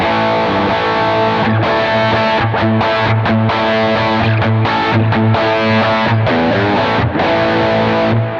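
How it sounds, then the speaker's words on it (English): A distorted electric guitar through an overdrive pedal with symmetrical dual silicon diodes plays a busy riff of choppy chords and single notes, crunchy and loud throughout, with no talking. "And this one is a symmetrical dual silicone diode."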